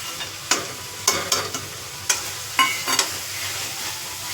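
A spatula scrapes and stirs through tomato masala with chili powder, turmeric and chole masala in a pan. Several sharp, separate strokes stand out over a soft, quiet background sizzle, with no talking.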